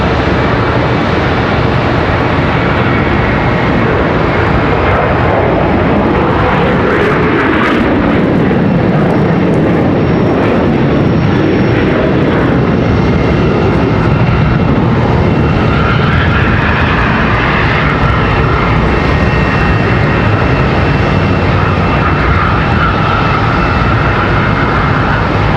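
A Sun Country jet airliner at Charlotte Douglas airport roars loudly and continuously for the whole stretch, its engine noise swelling and shifting in pitch as it moves on the ground nearby.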